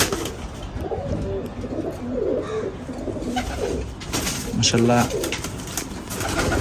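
Pigeons coo in low, repeated throaty bursts nearby, while someone speaks briefly over them.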